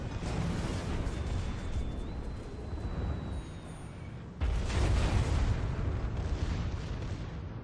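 Battleship secondary guns fire in a World of Warships naval battle against a Benson destroyer, a rolling barrage of heavy booms over constant rumbling, with a louder burst of blasts partway through.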